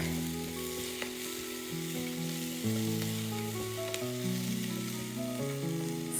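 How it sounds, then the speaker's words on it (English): Garlic and orange pepper sauté in a Curtis Stone Electric Wonder Pot, giving a soft continuous sizzle beneath sustained tonal background music, with no talking. "Okay, I just added in our garlic."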